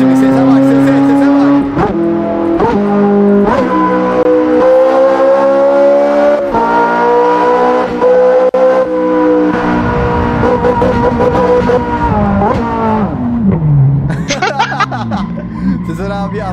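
A Ferrari sports car engine revs hard while driving through traffic, loud rising and falling engine tones with sharp gear changes and a burst of high revving near the end, with people talking over it.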